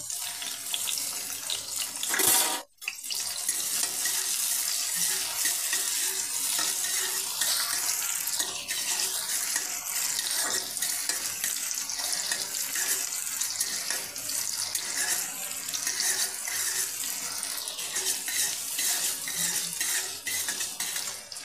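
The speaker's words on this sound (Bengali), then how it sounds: "এর মধ্যে লঙ্কার পেঁয়াজটা আমি হালকা করে ভেজে নেব।" Chilli and onion fry in hot oil in a wok, giving a loud, dense sizzle that runs almost without a break. A brief drop in the sound comes near the start, with faint utensil clinks under the hiss.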